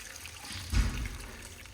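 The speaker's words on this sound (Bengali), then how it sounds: "এবার এই গরম জলটা দিয়ে দেব।" A brief splashy pour of hot water into ghugni, a pea curry, swells for a moment, then fades into a soft bubbling trickle.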